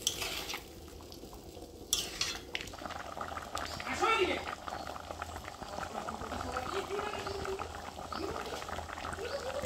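A snakehead fish curry bubbles in a pot after hot rice water goes in, a soft, continuous simmer with faint utensil clinks, quiet and close, while someone talks over it.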